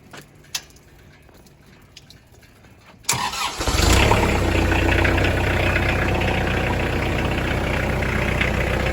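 A Kubota L3840 tractor's diesel engine cranks and starts about three seconds in, then settles into a steady, loud, close idle with no talking.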